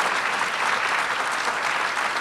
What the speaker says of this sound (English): If we could have a round of applause for our extraordinary panel today.